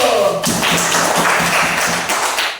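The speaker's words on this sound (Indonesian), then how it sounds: "Tepuk tangan dulu" A classroom of students claps together, a short burst of brisk, close applause with a few sharper taps, rising quickly and fading after about two seconds.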